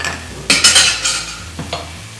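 Curd and cashew paste cook in a hot pan for paneer peshawari, as a spoon scrapes and stirs through the thick mixture in several close, loud strokes over a low sizzle.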